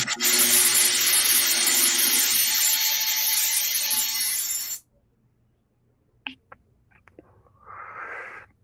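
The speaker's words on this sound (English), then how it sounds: "his drill is loud" Power drill in a woodworking shop, a loud, harsh, broadband whir running steadily for several seconds before cutting off abruptly, followed by a few faint clicks and a soft rustle near the end.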